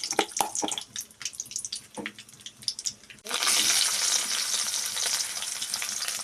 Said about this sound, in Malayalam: 2 കടുക് ഇടണം.